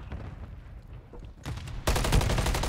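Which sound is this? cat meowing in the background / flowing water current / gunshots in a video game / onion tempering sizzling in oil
gunshots in a video game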